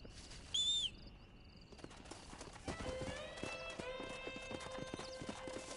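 A horse in Red Dead Redemption whinnies loudly near the start, then its hooves clip-clop in a quickening rhythm, with a faint bird call in the background.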